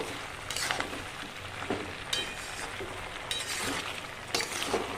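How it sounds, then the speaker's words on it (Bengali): A spoon scrapes and stirs chicken stew in a pan in several short bursts, with a faint sizzle of cooking underneath. "এটাকে দিয়েও আবার একবার নেড়ে নেব"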